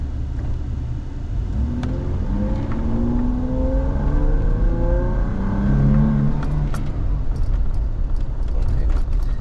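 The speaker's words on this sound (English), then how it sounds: "Alright, so I'm gonna do a wide open throttle here." Toyota Tacoma with a 3.4L engine at wide open throttle from a stop: a rising engine drone that climbs in pitch through the gears, with steady road rumble underneath.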